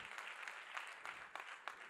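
An audience at a stand-up comedy show applauds, with soft, fairly distant clapping and a few sharper claps standing out over two seconds.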